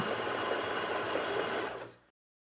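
A Janome 2008 sewing machine runs a straight stitch in a steady, fast mechanical whir, loud and close, for about two seconds before stopping abruptly.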